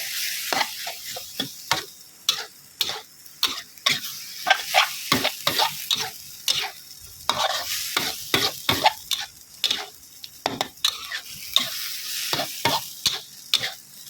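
Thai basil stir-fry with dried chilies being tossed in a hot pan, with loud, rapid, rhythmic scraping strokes of a spatula over a constant vigorous sizzle, close up and free of speech.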